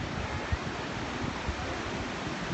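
Ocean waves washing ashore at Laguna Beach, a continuous soft hiss of surf with faint low thumps of breaking water, steady and calm with no voices.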